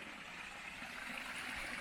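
Creek water flows steadily on a wet, rooty forest hiking trail after big storms, a constant broadband rush and trickle close by with no talking.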